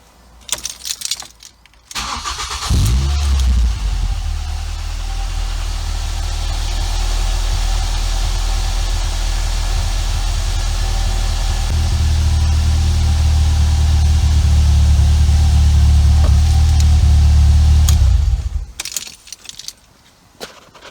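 A Ford Fiesta ST150 jacked up in a garage for a service and fuel filter change: keys jangle, the engine cranks and catches, then settles into a steady, loud idle that deepens partway through before cutting off.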